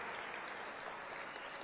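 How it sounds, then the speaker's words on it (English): An audience applauds Bloomhaven at a State of the City address, a steady even wash of many hands clapping, moderately loud and unbroken. "Another round of applause for Bloomhaven."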